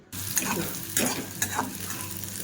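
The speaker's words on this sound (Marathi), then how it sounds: "ती कारली पूर्ण तेलामध्ये चांगली अशी फ्राय झाली पाहिजे" Bitter gourd frying in oil in a pan, a steady sizzle with a few louder scraping stirs, close and alone with no talk.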